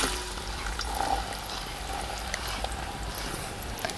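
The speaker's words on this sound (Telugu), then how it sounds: "నూనె అయితే కాగింది. ఇందులో ఉల్లిపాయ ముక్కలు వేసుకుంటున్నాను." Onion pieces fry in hot oil in a pan for a village-style pomfret fish curry, a steady close sizzle and crackle that carries on with no talking.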